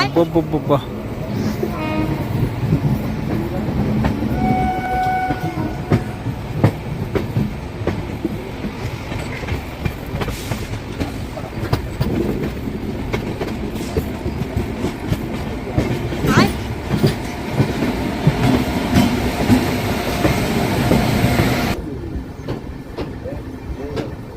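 Satavahana SF Express LHB train running on the rails past Kondapalli reserve forest after Vijayawada Junction: loud continuous wheel rumble with clickety-clack beats and a short horn-like tone early on.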